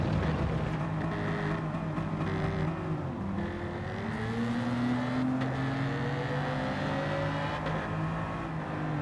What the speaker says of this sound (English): I think Tom has souped up his BMW and it sounds sublime.